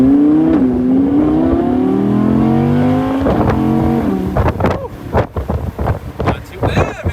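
An Audi R8 Spyder V10 with the top down accelerates hard, the engine note rising steadily for several seconds under wind buffeting before breaking into choppier bursts as the car shifts and settles.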